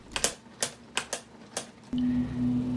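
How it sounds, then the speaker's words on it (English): A mechanical typewriter built from Lego bricks clacks through five sharp key strikes in a quick uneven rhythm, close and clear, then a steady tone rings out after the last strike. "Lego brick sets can also have mechanical functions like this Lego brick typewriter Michael Vanderveen built."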